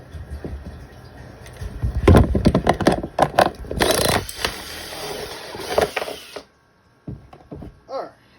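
A power drill bores a quick hole for a homemade turtle tank filter, buzzing in uneven bursts with handling noise before it cuts off into quiet.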